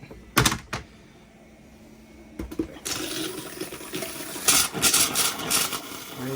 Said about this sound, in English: What that air is doing is pushing out all the water out of the lines.